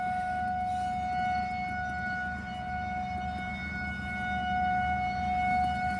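A tornado siren wails steadily at a distance, a sustained tone with overtones holding across the whole stretch, faint and continuous with no talking.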